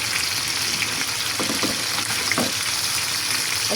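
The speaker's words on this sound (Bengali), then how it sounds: "মাছগুলো ভেজে নিচ্ছি, একটু" Rupchanda pomfret fish fry in hot oil with a steady, close crackling sizzle, occasional louder spits and stirring scrapes breaking through the constant hiss.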